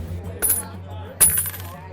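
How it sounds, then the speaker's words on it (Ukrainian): Two bright metallic jingles of coins dropping into a temple treasury, about a second apart, over a low steady hum. "Коли люди почули дзвін монет у скарбниці храму"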